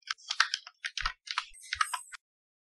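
Quick bursts of typing on a computer keyboard while entering a name into a text box in MS Word, close and crisp clicking keys in uneven clusters with short pauses, no talk.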